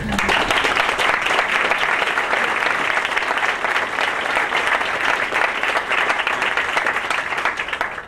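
A large audience at a United Way campaign event applauds board members, a loud, continuous wash of many hands clapping that stays even and sustained from start to finish.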